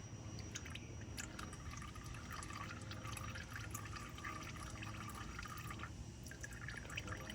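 Thin engine oil leaking from a Kia and dripping onto carpet material below, a faint continuous trickle with scattered drips, quiet and steady throughout.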